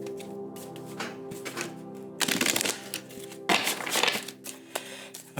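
A deck of tarot cards is riffled close up in two loud bursts of rapid papery flutter, separated by lighter taps and handling, with no voices.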